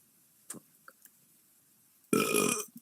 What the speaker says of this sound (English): You're burping a lot.